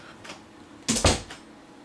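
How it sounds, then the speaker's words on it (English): A room door swings shut in a darkened house, a short double thud with a brief rattle, fairly close, after a quiet stretch. "door closed."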